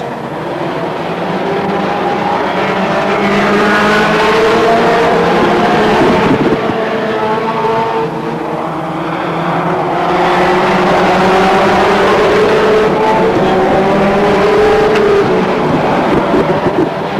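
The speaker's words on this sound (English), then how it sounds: "the reigning world champion, Rob Speak, crossing the line in first place in car number 218." Loud roaring engines of BriSCA F1 stock cars speed along a track at Northampton continuously, rising and falling in pitch as they pass close by.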